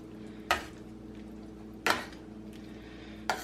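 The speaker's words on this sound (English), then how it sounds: "And let's go ahead and stir this." Chicken pot pie filling being stirred in a pot, heard as three sharp, evenly spaced clanks of a utensil against the pot over a low background hum, with no talking.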